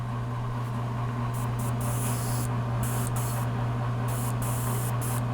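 A Sotar 2020 airbrush set at about 25 psi sprays paint onto a bust in a steady, close hiss that never lets up, with a constant low hum underneath and short bursts where the spray gets brighter.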